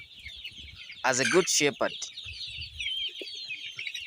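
Free-range improved village chickens in Zambia cluck and chatter faintly in the background while someone talks over them close by.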